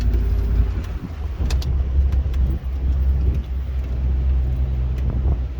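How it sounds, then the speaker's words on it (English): A 1997 NAS California Land Rover Defender is driven with its top off, giving a low, steady exhaust drone under rushing road and wind noise, continuous and fairly loud, with no talking. "And that exhaust sounds so good."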